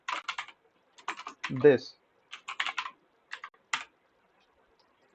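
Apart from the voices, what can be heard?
typing code on a computer keyboard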